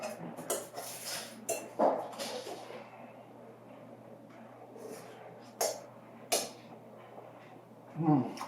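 Utensils scrape and clink against a plate while cutting a piece of stuffed bell pepper filled with turkey and riced cauliflower, a few sharp clinks standing out over a low steady hum, with no talking.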